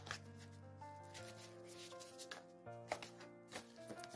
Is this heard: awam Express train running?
no